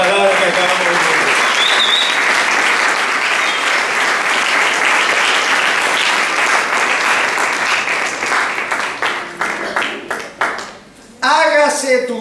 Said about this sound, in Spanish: Denle un aplauso a la palabra que acabamos de decir